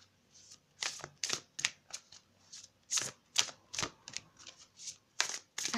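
Oracle cards being shuffled by hand, a close series of quick papery riffles and flicks in irregular bursts, fairly soft, with no talking.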